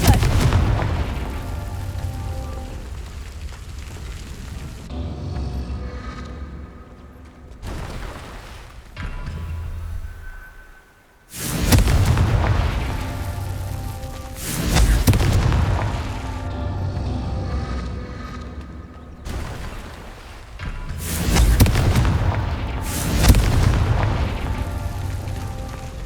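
Confringo spell explosions in the video game Hogwarts Legacy, several heavy booming blasts in separate bursts with rumbling tails, loud and close, with short quieter gaps between them.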